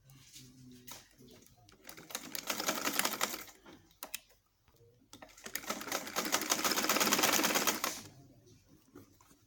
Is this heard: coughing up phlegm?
no